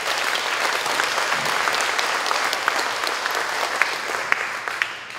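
Audience applause at a Korean community political gathering in Toronto in 2011, a sustained dense clapping from a large crowd, even and fairly loud throughout, with a few sharper claps standing out near the end.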